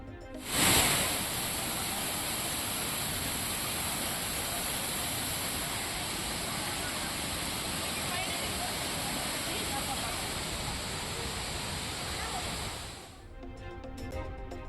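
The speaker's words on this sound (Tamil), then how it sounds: "குமரியில் பெய்த மழையால் திருப்பரப்பு அருவியில் ஆர்ப்பரிக்கும் தண்ணீர்." Water roars down Thirupparappu waterfall in Kumari after rain, a loud, steady rushing wash that holds unbroken for many seconds before cutting off near the end.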